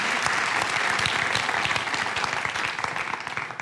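Audience applause at a talk on creativity for YouTube success, dense steady clapping throughout, fairly loud and close, with no speech over it.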